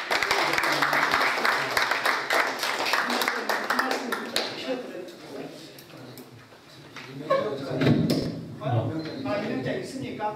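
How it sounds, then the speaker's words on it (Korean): Applause welcoming newly appointed board members at a Korean community association board meeting, a few seconds of clapping that fades, followed by talking. "우리 박수로 일단 환영을 좀"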